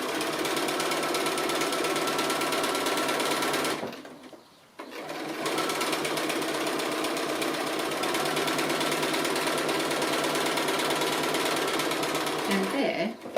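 Sewing machine stitching appliqué along a dividing line, a loud continuous whirring drone that stops briefly for about a second before running steadily again.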